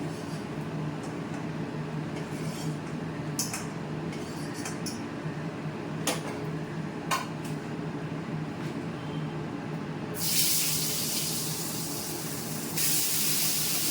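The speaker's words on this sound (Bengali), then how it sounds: "আলুগুলো একটু ভাজা হলে আমি তারপর এতে নুন দেব" Potatoes fry in oil with a low, steady sizzle, occasional utensil clicks, and a louder burst of hissing toward the end.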